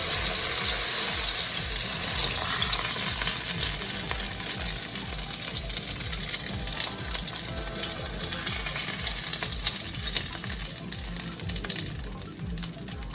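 Pork chops frying in a pan on a burner at medium-low heat, a steady dense sizzle and crackle that runs unbroken throughout, close and fairly loud with no talking.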